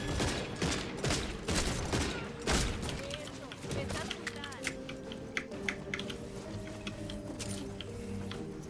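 Rapid gunfire from the video game Redfall, with dense volleys of shots and bursts over game effects while players talk throughout.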